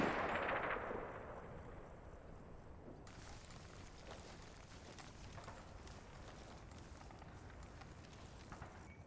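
Gunfire in the wargame Combat Mission, Operation Epsom battle, a continuous low rumble of distant small-arms and machine-gun fire with scattered faint shots, preceded by a louder burst of noise at the start.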